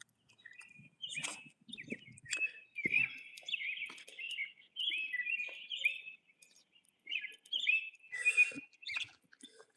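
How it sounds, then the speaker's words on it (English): Small birds chirp and tweet in quick, bright bursts, with several overlapping calls and trills running through the whole stretch at moderate loudness, and some faint low rustling or nibbling noises underneath. "The birds are your sign."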